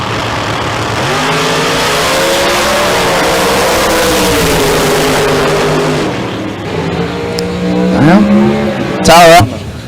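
Drag race cars launch hard on nitrous, a loud sustained engine roar with harmonic revving that drops off, followed by rising whines and a sharp burst near the end, with commentary running throughout.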